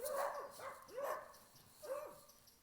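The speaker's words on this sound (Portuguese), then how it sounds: "Os cachorros estão brigando ali." Several sharp barks from fighting dogs in an uneven burst, some yelping and tense, with a pause before a final bark; fairly close and loud, on a trek in Lençóis Maranhenses.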